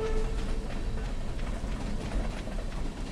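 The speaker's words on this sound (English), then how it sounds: "The train! Oh, it looks like a hay train." A hay train rolls past in the farming video game Stardew Valley, a steady low rumble with faint rhythmic clatter of rail cars, moderately loud and continuous with no talking.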